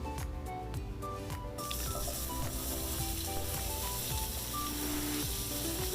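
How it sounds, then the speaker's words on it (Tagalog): Potatoes sizzling and frying in a pan for a beef stew, a steady close crackle with spits of fat and faint utensil clinks, alone without talk. "Using another pan, we fried the potatoes until light brown."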